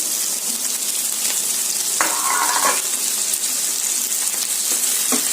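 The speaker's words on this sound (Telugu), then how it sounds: "కొంచెం మగ్గితే చాలండి ఉల్లిపాయ, చూసుకున్నారు కదా, మరీ ఎక్కువ ఫ్రై అవ్వకూడదు" Sliced onions frying gently in a pan: a continuous nearby sizzle and crackle, with a few brief scraping stirs and no voices.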